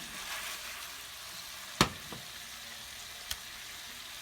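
Chicken fillets fry in a covered pan on a stovetop, giving a quiet, steady sizzling hiss broken by one sharp crackle and a couple of fainter pops.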